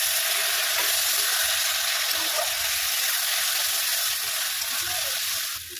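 Ground rohu fish paste and mustard sauté in hot oil with a loud, steady sizzle and crackle that runs unbroken and close, easing off only at the very end.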